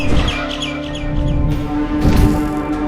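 A bird chirps in the video game Garten of Banban 6, a loud run of quick tweets over a droning in-game background tone, with a second chirping burst near the end.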